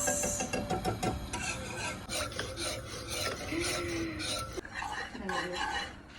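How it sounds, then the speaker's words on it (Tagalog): Maja blanca mixture stirred continuously in a pot, a steady scraping and rasping of a utensil against the pot bottom with occasional metallic clinks, close and fairly loud throughout. "Continuous lang ang paghalo para hindi siya tumigas."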